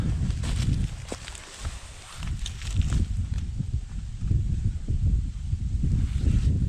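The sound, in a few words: wind blowing in forest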